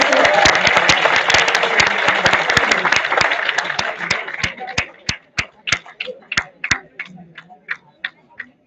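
Audience at a national seminar applauding, dense clapping for about four seconds that thins into scattered individual claps and fades out, heard from within the hall.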